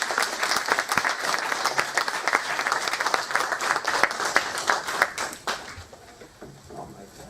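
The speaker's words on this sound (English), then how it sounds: "I'd like us all please to direct our applause to all the writers involved" Enthusiastic applause from an audience at a State Library of NSW literary event, brisk clapping with crisp hand strikes that carries on steadily before tapering off into quieter room sound.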